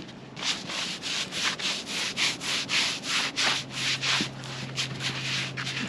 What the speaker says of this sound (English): Trying to get all the sawdust off it so we can see what it looks like.